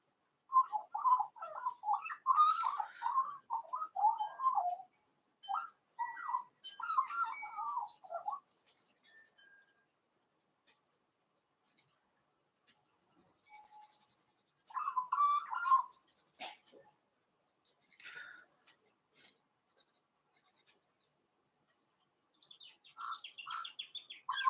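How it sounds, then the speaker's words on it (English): A magpie chatters in quick rattling bursts with short pauses between them, fairly distant and faint against a quiet background, with a few soft scratches nearby. "He's a chatterbox, that magpie. He's on a roll."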